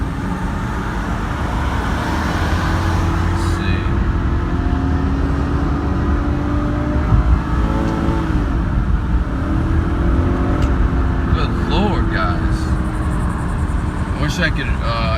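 An Infiniti M45 or G37, Cadillac CTS or Ford Focus ST pulls hard under strong acceleration on a test drive. A steady, loud engine drone rises over road and traffic noise, with speech mixed in.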